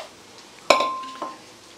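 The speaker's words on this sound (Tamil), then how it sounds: "ஸோ இந்த குக்கரில் எல்லாத்தையும் போட்டுருவோம்." Vegetables and chopped greens tipped into a metal pressure cooker while preparing a South Indian lunch, giving a sharp clatter of metal and food striking the pot, then a second softer clink about half a second later.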